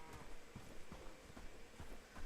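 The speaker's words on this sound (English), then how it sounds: "There's so many cows on the road." Cows plod along a road in the video game Bellwright, their hooves giving soft, irregular clopping steps over a busy background bed, moderately near.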